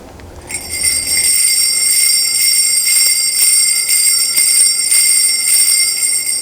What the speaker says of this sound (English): jingle bells were put onto horses to let people or pedestrians in the street or on a trail know